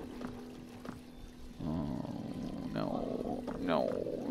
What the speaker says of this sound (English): there's that water sound again!